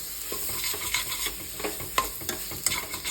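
Tomatoes and chilli powder frying and being stirred in a pan, with steady sizzling and repeated soft spoon scrapes over about three seconds, no voices.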